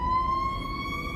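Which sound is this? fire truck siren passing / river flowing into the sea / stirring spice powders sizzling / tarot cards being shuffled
fire truck siren passing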